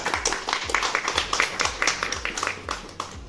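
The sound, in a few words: audience applause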